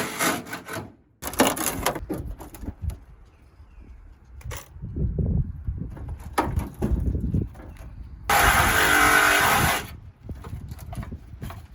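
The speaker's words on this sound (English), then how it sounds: "the Sawzall never fails" Battery-powered Sawzall reciprocating saw cutting into a mint-condition Chevy Cateye, heard in several rough, rasping bursts of sawing and scraping, with one loud, harsh stretch near the end.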